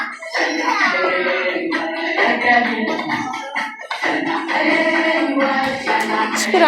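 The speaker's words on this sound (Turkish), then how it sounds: "Alkışlayan uşaqlar." Continuous clapping from a group of children, dense and lively, with excited young voices and chatter mixed throughout.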